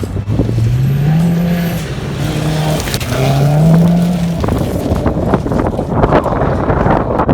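A Subaru rally car's engine revs and shifts pitch as it passes nearby around a corner at a rallycross, with wind buffeting the microphone and gravelly road noise as it goes by.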